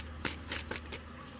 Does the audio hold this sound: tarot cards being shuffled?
yes